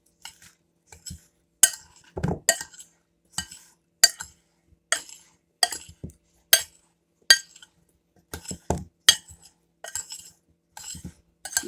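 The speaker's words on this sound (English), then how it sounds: "You just stir it until all the spices and the olive oil, blend it all over the potatoes." A spoon stirs spices and olive oil through roasted potatoes in a metal pan, giving sharp, irregular clinks and scrapes at close range.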